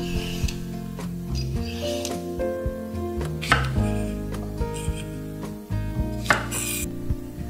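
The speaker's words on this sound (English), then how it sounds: "peel the skin of 2 Japanese cucumbers," Two Japanese cucumbers being peeled in stripes, a series of short scraping, rasping strokes against the skin with light knocks on a board, close up and unhurried with no talking.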